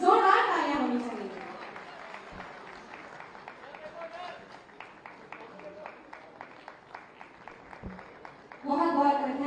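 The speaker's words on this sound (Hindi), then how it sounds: "इनके लिए जोरदार तालियां होनी चाहिए।" At an Uttar Pradesh Day inauguration ceremony, a crowd claps in a steady, evenly timed rhythm at moderate volume, with speech at the start and again as the clapping ends.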